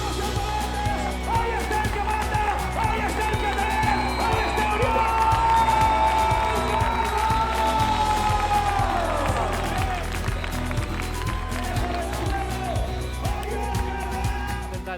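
Crowd at a Skyrunning World Cup race finish line during the Buff Mountain Festival, cheering, whooping and clapping steadily for an arriving runner, with a thumping music beat underneath and voices calling out through the noise.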